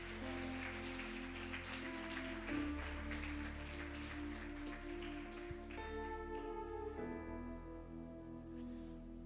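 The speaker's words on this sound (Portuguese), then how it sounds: "E aplauda bem forte o nome do Senhor." A church congregation claps together in a dense, steady wash of applause over sustained keyboard chords. The clapping thins out toward the end as the music carries on.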